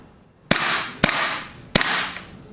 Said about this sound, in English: pull that trigger at the very end just to make the gun fire